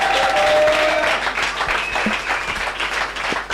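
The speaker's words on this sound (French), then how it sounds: "Je veux que tu acclames la parole de l'Éternel" Church congregation applauding during a service, a dense burst of many hands clapping that is loudest at first and then thins slightly, with a faint tone and a murmur of voices underneath.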